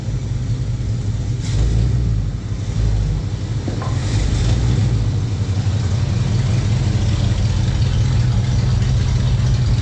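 The engine of a 1971 Plymouth Road Runner runs at a steady idle, a deep, continuous rumble that stays loud and even throughout, with faint clicks and knocks sitting over the low drone.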